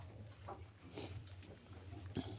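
Rough, raspy breathing sounds from a pig come in short bursts over a steady low rumble of farm noise, with brief snorts near the end.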